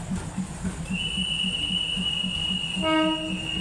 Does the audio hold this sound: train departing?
yes